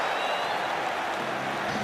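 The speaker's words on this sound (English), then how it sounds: "Suddenly the crowd are alive." A crowd at a New Zealand versus England one-day cricket match roaring after a catch, a dense, loud, continuous cheer with no single voice standing out.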